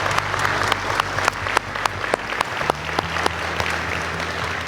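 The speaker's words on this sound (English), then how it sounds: "let's give them a round of applause" A room full of people clapping steadily for a couple's 52nd wedding anniversary, sustained applause throughout with no voices over it.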